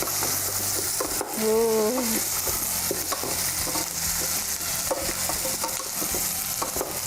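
Carrot and ginger stirred in a pot, a soft continuous sizzle with repeated spoon scrapes and clinks, a brief low vocal exclamation near the start.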